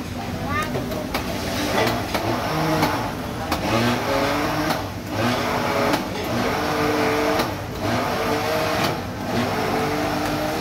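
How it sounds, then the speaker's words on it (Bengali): Restaurant blender whirring through a lassi made with sugar and milk, a loud steady motor drone with rhythmic pulses over about ten seconds, with people talking over it. "এবার ব্লেন্ড।"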